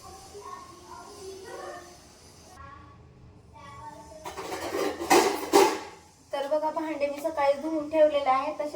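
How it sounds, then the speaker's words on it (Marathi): Pots and dishes are set onto a drying rack in a home kitchen while tea boils, giving clattering metallic clanks and scrapes in bursts. Someone talks over much of it. "चहा बॉईल होईपर्यंत माझं भांडे होतील लावायचे रॅकला"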